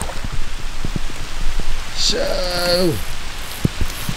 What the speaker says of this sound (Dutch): we staan in de stromende regen